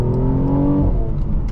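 A 2018 Mercedes-Benz C43 AMG with its V6 engine pulling under acceleration, a loud close droning note that rises then eases off, heard from inside the car without talk.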